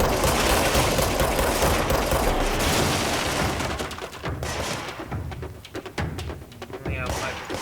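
Dense automatic gunfire and impacts from the video game Control roar continuously, loud and chaotic, thinning into scattered shots and thuds toward the end.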